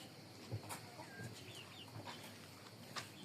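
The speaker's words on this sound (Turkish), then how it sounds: "Bunlar da tavuklarımız." Farm chickens cluck nearby in a low, scattered chorus, with short clucks and calls popping up irregularly over a steady faint background hum.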